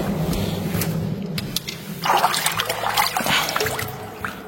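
Cool water trickles and splashes at an ancient fourth-century water source inside the Church of the Holy Sepulchre in Jerusalem, a close, steady burbling flow with brief louder splashes midway.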